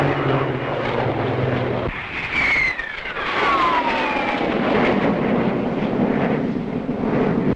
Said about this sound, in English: Next, the Hawker naval fighter.